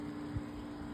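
A Goodman central air conditioner unit with a reciprocating compressor runs outdoors, giving a steady, close mechanical hum and whir without a break for the whole second.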